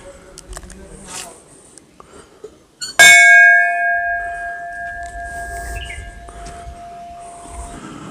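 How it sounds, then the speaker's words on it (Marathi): A large bronze temple bell at the Shri Pisarnath temple in Matheran is struck once, loud and close, and its bright ringing tone hangs and slowly fades over several seconds in a quiet setting. "ती नाही परंतु तशाच आकाराची घंटा आहे"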